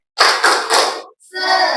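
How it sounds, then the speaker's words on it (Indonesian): A group performs a rhythmic spirit clap during a teaching practice session: loud, close bursts of unison clapping in a quick pattern, a short pause, then another clapped phrase. "Ulangi lagi satu kali. Tepuk semangat."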